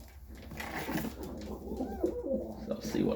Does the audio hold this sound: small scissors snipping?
no